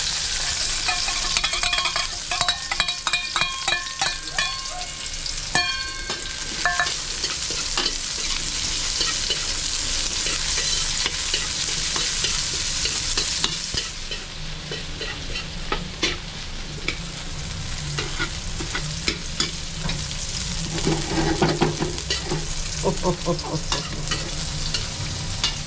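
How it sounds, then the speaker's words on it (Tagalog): Garlic sautéing in a hot pan gives a steady, loud sizzle throughout, with frequent scraping and clanking of a spatula stirring against the metal. No voices are heard. "Medyo papulahin natin konti yung bawang mga kabuko"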